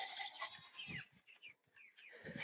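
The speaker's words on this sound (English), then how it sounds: "now the goats are hollering at me because they hear me." Goats on a small farm holler and bleat repeatedly in short cries, fairly near, with chickens nearby on a dry spring day.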